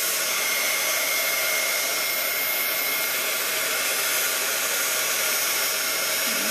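A heat embossing gun runs steadily, melting UTEE embossing powder, a continuous loud blowing whir that holds level throughout with no talking.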